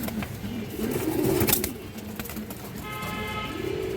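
Low, throaty cooing from a female pigeon rises and fades in a couple of murmuring phrases, fairly quiet against a constant noisy background.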